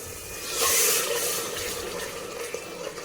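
Water pours steadily into a cooking pan with a splashing rush that swells early then settles into a softer trickle, close by and alone.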